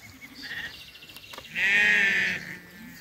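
Young ram lambs around seven months old for sale give one loud, close, drawn-out bleat in the middle, with fainter calls before and after.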